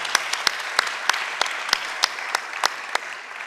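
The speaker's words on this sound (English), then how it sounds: "round of applause for the plants" An audience at a green awards event applauds, steady light clapping with a few sharper, louder claps standing out near the front, fairly soft overall.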